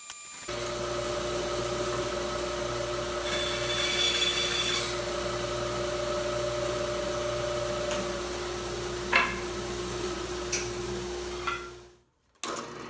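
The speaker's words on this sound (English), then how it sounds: "Now I can take the blank to the bandsaw and cut out the actual shape of the guitar" A bandsaw runs with a steady motor hum and blade whine while cutting out the shape of a seven-string fanned-fret guitar neck blank, with a few brief higher squeals from the cut, near and even, then stopping abruptly.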